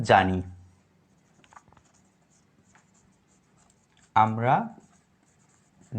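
A pen writes on paper while working a physics calculation, with faint scratching strokes between two short bursts of speech.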